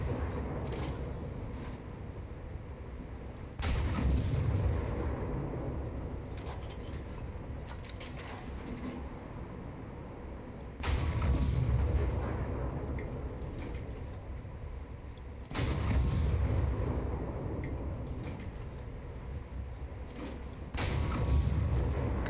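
Naval guns fire in the War Thunder video game during a ship battle against a destroyer, heavy low booms recurring every several seconds, each with a rumbling decay, over continuous engine and sea ambience.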